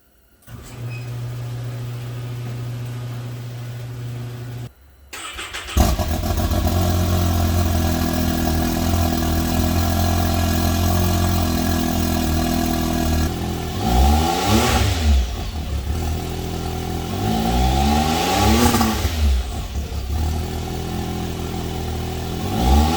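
Can-Am X3 side-by-side on its stock exhaust cranks and fires up, settling into a steady idle before several sharp rising revs that climb and fall back, loud and close with no talking.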